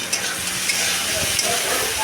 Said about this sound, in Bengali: পেঁয়াজ আর ক্যাপসিকামটা আমি একসাথে ভালো করে ভেজে নিচ্ছি চিকেন রান্না করার জন্য।